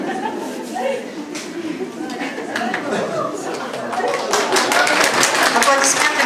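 An audience at a Nauryz celebration in a city hospital in Kostanai claps, with chatter early on giving way to denser, louder applause that builds toward the end.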